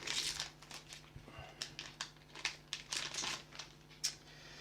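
Crinkly plastic wrappers of trading card booster packs for the Final Fantasy card game being torn and opened, a series of quiet irregular crackles and rips close to the microphone with no speech.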